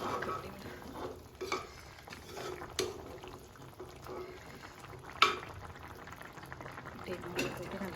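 Beef curry fries and bubbles in a pot over steady heat, with soft continuous sizzling, occasional stirring clinks and a sharp tap, heard close with a voice speaking faintly at times.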